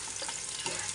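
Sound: sautéing onions in a pan

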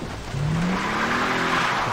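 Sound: car driving in Far Cry 3 video game

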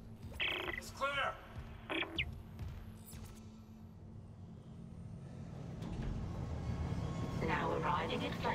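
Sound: tram arriving in Dead Space Remake video game

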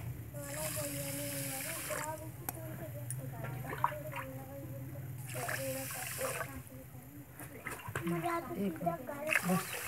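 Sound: water poured into sugar in a wok for syrup

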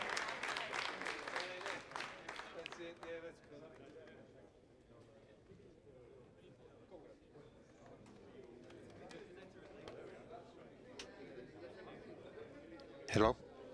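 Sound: crowd cheering and applauding at Ariane 5 rocket launch

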